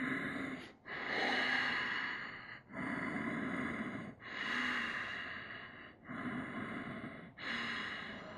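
Slow, deep yoga breaths during a plank pose sequence, a steady cycle of long audible inhales and exhales through the nose, close and alone with no talking.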